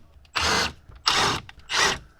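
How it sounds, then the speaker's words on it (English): Power driver spinning out T20 bolts on a BMW dashboard during an NBT EVO head unit WiFi antenna install, three distinct whirring bursts, each about a third of a second, with brief quiet gaps between. "Next, we have 4 T20 bolts that we'll need to undo to gain access to the head unit."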